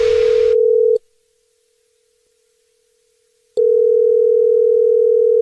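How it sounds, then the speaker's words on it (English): A steady telephone dial tone sounds loud and clean at the opening of a prank call, cuts off for a few seconds, then resumes just as strong. "It's another Jubal phone prank."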